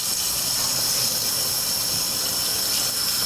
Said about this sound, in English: And I just turn on the water,